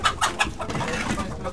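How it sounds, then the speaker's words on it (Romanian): Chickens cluck at feeding time on a farm, with several close, sharp bursts of clucking in quick succession over a steady barnyard background. "Mergem să dăm la găini de mâncare."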